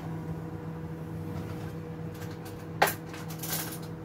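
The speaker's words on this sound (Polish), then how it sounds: "Tam jeszcze słychać, bo mi się parówki gotują." Sausages cooking in a microwave oven at home, a low steady hum with a soft rattle and one sharp clink of a spoon or dish over it, quiet and near.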